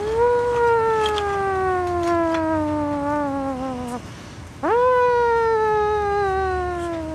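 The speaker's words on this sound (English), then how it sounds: "That's the evacuation siren." An evacuation siren wails loudly and steadily, its tone sliding slowly downward for about four seconds, cutting out briefly, then jumping back up and sliding down again, with no voices over it.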